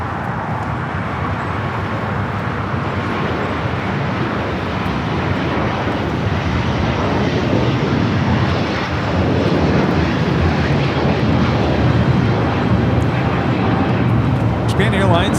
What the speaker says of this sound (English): Japan Airlines Flight 15 taking off to Tokyo Haneda on the A350-1000